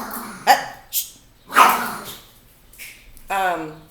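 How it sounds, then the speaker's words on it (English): Several sharp dog barks and yelps, fairly close, scattered across a few seconds with short pauses between them. "excuse my dogs."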